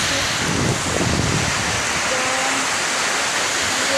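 A stormy outdoor scene near a market, with rain and strong wind gusts making a loud, dense rushing roar that continues without a break.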